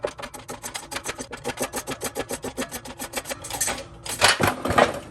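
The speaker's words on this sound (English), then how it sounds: "now we'll come in for a close-up so you can see the pressing happening" A press forces the bearing off the rear axle of a 100 Series Toyota Land Cruiser / LX470, with a fast, even train of loud rasping strokes building into a harsher, grinding surge near the end.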